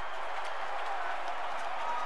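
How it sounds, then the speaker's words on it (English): A stadium crowd roars in MLB 15 The Show as the Giants win on a bunt: a steady wash of cheering and applause that holds at one level from start to finish. "as this crowd goes crazy"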